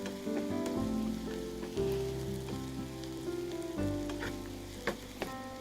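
Onions with salt frying in a pan sizzle steadily, with crackles and spatter, over soft background music and the occasional scrape of stirring.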